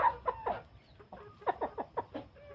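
A hen clucks repeatedly in a Thai breeding flock of imported black hens, a series of short, close, moderately loud clucks in irregular bursts, heard alone with no talking.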